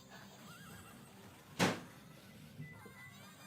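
Horses from the Patapon video game neigh in a single sharp, loud whinny burst, with quieter game sounds in the background.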